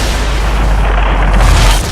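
Dense, continuous booming explosions from the racing video game Split/Second fill the mix, loud and low with no gaps between blasts.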